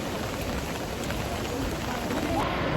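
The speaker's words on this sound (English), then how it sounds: "It's raining." Steady rain falls on a crowded street, a continuous broadband hiss of drops on surfaces holding at an even level throughout.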